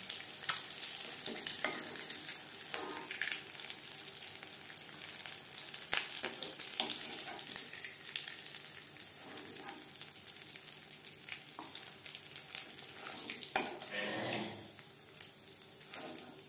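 Egg chops frying in oil give a steady, fairly quiet sizzle that runs throughout, broken by occasional stirring clatters and faint water-like splashes, with no voices.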